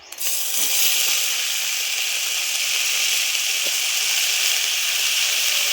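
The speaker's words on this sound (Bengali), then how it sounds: "আর জিরে সামান্য এবার ভালো করে ফোড়ন করে নেবো" Cumin seeds and a bay leaf crackle in hot oil for tempering, giving a constant bright sizzle with a few faint pops throughout.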